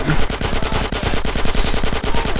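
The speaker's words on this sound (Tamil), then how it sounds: "ரீலோட் பண்ணி ஷூட் பண்ணி ஷூட் பண்ணி ஷூட் பண்ணு" Rapid automatic gunfire from GTA San Andreas gameplay, a loud, steady stream of closely spaced shots rattling without pause.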